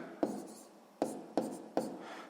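A pen writes a maths expression on paper at close range: four short, sharp scratching strokes spaced irregularly, quiet and alone.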